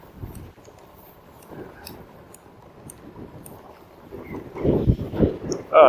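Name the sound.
wind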